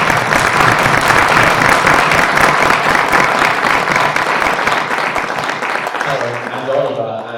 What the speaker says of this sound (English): Can we give Nicholas a big round of applause, please?